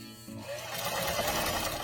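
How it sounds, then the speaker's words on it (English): A domestic sewing machine runs slowly, stitching stretchy knit fabric for a scrunchie, a steady close mechanical whir that starts after a brief pause and continues evenly without talk. "I always go very slow with my sewing machine"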